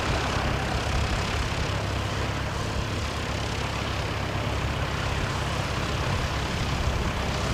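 Small propeller training aircraft from a flight school taxiing, a steady broad engine drone at constant loudness with a low hum underneath and no voices.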